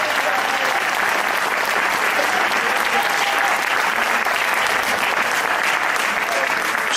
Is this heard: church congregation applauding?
yes